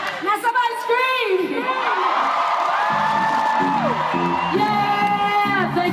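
Concert crowd screaming, whooping and cheering loudly in a sustained roar, with shrill individual shouts rising above the mass of voices.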